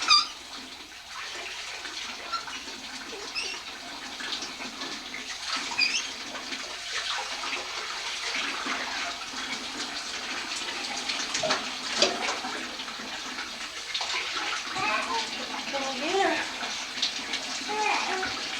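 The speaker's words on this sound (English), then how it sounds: "I gotta watch this hot water." Hot water runs into a bathtub in a steady, close rush that continues without a break, with voices of people, including a child, talking faintly in the background.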